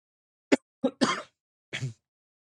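A person coughs several times close up, short harsh bursts with brief pauses between them, no talking.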